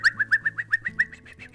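Toy-box sound effect of birds cooing in the Hansel and Gretel story, a rapid series of about ten short, evenly paced dove-like coos ringing out clearly with no talk.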